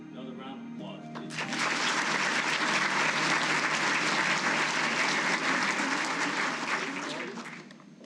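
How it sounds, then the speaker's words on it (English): An audience at a Hall of Fame ceremony bursts into applause after a brief quiet lead-in, the clapping swelling loud and dense, holding for several seconds, then fading out. "Another round of applause, please."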